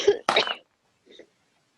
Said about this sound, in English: Sorry about all the coughing, guys.